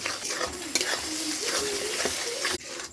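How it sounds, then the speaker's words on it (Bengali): Chicken spice paste sizzles in a pan while it is stir-fried, with brisk scraping strokes over a loud, constant frying hiss. "মশলা করেছি সেই পেস্টের জল দিচ্ছি। ভালো করে কষিয়ে নেব।"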